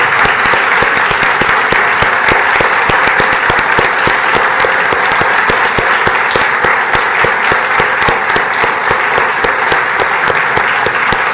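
A worship congregation applauds for Jesus Christ at a Christmas service, a loud, dense and sustained roar of many clapping hands that carries on without pause.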